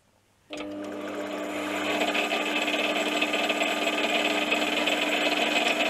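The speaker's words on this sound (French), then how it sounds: "Et on va maintenant pouvoir percer." A 3D-printed resin part is drilled on a lathe, starting abruptly and then holding a steady, loud machine whir with a grinding, rattling texture. The sound swells slightly over the first couple of seconds and no one speaks.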